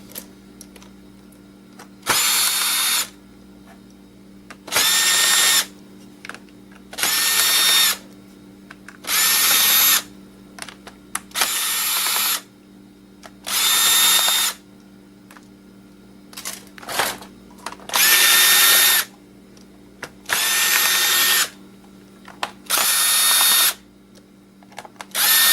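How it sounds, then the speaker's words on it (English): A power screwdriver works screws out of an old laptop in about nine short whirring bursts, each a few seconds long, close and clear with quiet pauses between them. "Let's get all these screws out."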